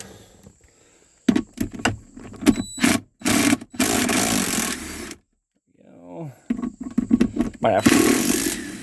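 A power tool whirs in several short bursts and longer runs while bolts are backed out of a car's center console, close and loud, with brief clicks between runs and someone speaking briefly.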